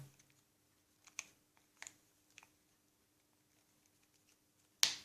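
The nano-SIM tray of a Samsung Gear S smartwatch, fitted with a rubber water seal, gives a few faint small clicks and then a sharp, louder snap as it clicks into place, all close up in an otherwise quiet room.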